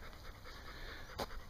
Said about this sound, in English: Bloody dog, yeah.